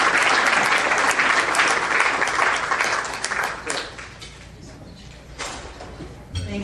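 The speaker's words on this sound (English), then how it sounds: "let's give a round of applause for Ms." An audience at the 2015 Cristobal C. Duenas Excellence Award ceremony gives loud, dense applause that fades after a few seconds into scattered claps, with brief swells toward the end.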